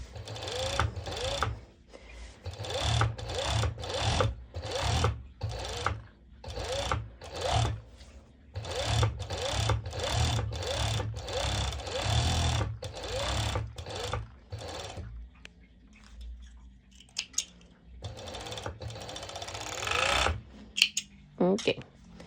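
A sewing machine stitches fabric and elastic through an elastic guide while sewing bottoms, running in repeated short bursts with brief pauses between them, close and fairly loud, and slowing into quieter handling near the end.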